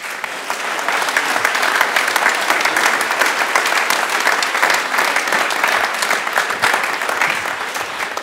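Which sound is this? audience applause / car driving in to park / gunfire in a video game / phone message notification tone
audience applause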